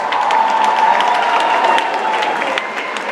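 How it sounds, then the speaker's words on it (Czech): A crowd at a high school ball claps in a loud, steady wash of applause with a few cheers, lasting the full few seconds. "Koncelový potlesk."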